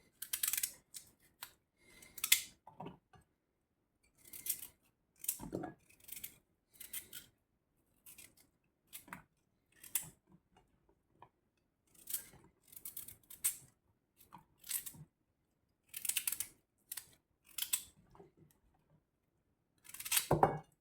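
Knife chopping vegetables for baby food, a series of sharp, close cuts against a board in irregular short bursts with quiet gaps, no voices over it.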